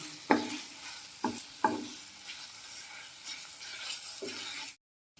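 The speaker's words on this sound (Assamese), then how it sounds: "এতিয়া আকৌ কণী দুটা দি অলপ সময় ধুনীয়াকৈ ভাজি ল'ম, ভালদৰে তেলটো এৰি অহালৈকে" Two eggs frying in oil in a pan for an egg curry with raw turmeric, a soft sizzle under a few sharp knocks and scrapes of a spatula, close and fairly quiet, ending abruptly in silence.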